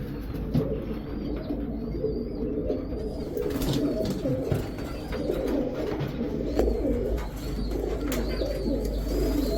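Red checker racer pigeons coo in a steady, overlapping murmur close by, low and continuous throughout, with faint chirps and rustling in the background.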